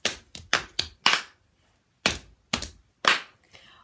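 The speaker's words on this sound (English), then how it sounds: "Clapping hands." Sharp hand claps ring out close by in a church toddler group: five quick claps in a row, a short pause, then three slower evenly spaced claps.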